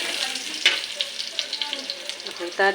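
Pork sautés in hot oil for afritada, making a steady, close sizzle with light popping and crackles scattered through it.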